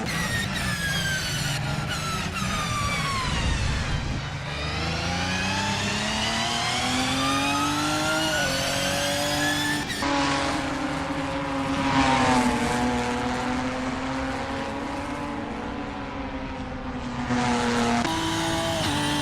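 A Ginetta G55 race car at Snetterton in Assetto Corsa screams through repeated full-throttle climbs, its engine pitch sweeping up then dropping at each gear change, loud and continuous with no voices.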